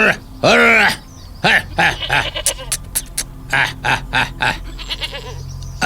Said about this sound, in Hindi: अरे मेरी प्यारी बकरियों